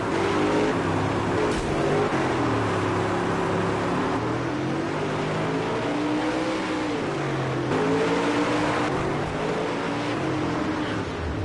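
Several race-car engines drone and whine together in a video-game dirt-track race, with revs rising and falling continuously as the cars circle the track. The engines sound loud and steady throughout, with no talking.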